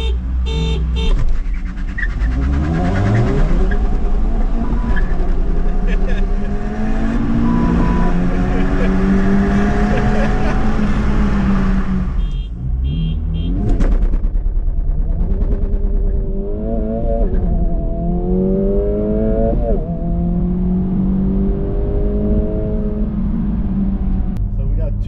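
2023 Honda Civic Type-R FL5 and 2024 Acura Integra Type-S launch from a dig in a drag race, engines revving hard and climbing through several gear shifts, loud and sustained with people talking over it.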